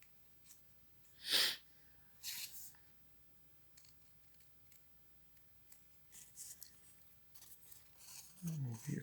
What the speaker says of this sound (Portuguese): Deixa eu cortar um pouquinho mais aqui.